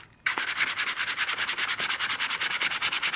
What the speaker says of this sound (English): So here's a piece of 100 grit sandpaper.